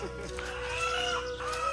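Chickens cluck close by at a rural home, a short burst of overlapping hen calls over low background noise.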